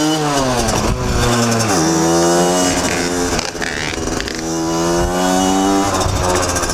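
A motorcycle engine revs hard close by, its pitch climbing and dropping in repeated sweeps as the throttle opens and closes, loud and alone.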